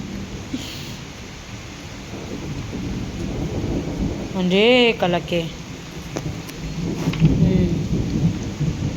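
Thunderstorm with heavy rain: a constant dense hiss of rainfall with low rumbling thunder, while people speak briefly over it nearby.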